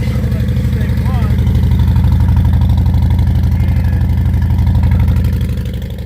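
An engine starts and settles into a steady, loud idle with a throbbing low rumble that runs evenly before easing off near the end, left running to warm up the oil.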